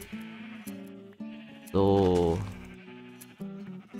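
Minecraft sheep bleat in short repeated calls while being sheared, one louder, longer bleat standing out in the middle, with brief speech over the game sounds.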